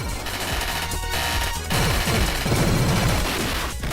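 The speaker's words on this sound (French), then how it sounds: "Il est également possible de relâcher un orbe afin de causer une énorme explosion." Dense, loud run-and-gun gunfire and blasts from the 1993 Treasure PC Engine shooter Spriggan, with rapid shots and crashing bursts layered over game music for the whole stretch.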